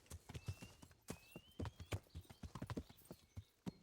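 Galloping horse hooves in the medieval game Kingdom Come: Deliverance, a steady run of clip-clop beats at close range with a brief faint whinny, no talk over them.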